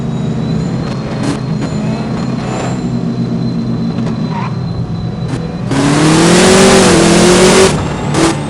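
NASCAR race car engine in No Limit Drag Racing 2.0, a steady droning hum that surges louder into a hard revving acceleration near the end, with no talk over it.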